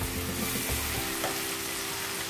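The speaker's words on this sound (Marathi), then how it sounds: "हे असं चांगलं तेल सुटेपर्यंत परतवून घेऊया" Chicken bhuna masala sautés in oil, with a continuous, close, loud sizzle and faint stirring.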